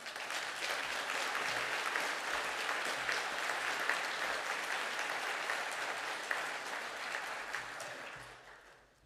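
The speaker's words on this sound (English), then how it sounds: "Can the class stand, or the students stand, for her round of applause?" Sustained audience applause at a graduation ceremony, a dense, even wash of clapping from a large crowd that holds steady for several seconds before fading at the end.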